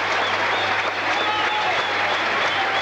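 A cricket crowd applauding a boundary struck by batsman Roy Dias against England at Colombo in 1982, steady dense clapping from a large stadium audience, heard continuously and fairly loud throughout.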